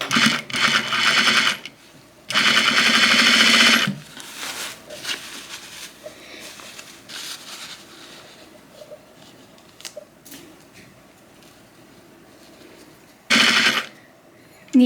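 A sewing machine stitches a cuff onto a jacket sleeve at a quarter-inch seam, running in two loud bursts near the start and one brief burst near the end, with quieter handling noises between.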